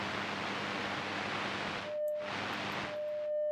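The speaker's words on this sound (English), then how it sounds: "You can hear some static on the radio for now since we're not tuned correctly." Static hisses loudly from an untuned radio in a video game, a broad steady noise that cuts out briefly twice, leaving a thin steady tone showing through the gaps.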